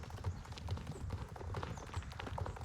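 Horse hooves clip-clop in the Star Stable video game, an even, rhythmic trotting beat that is moderately close and continues steadily without any talk.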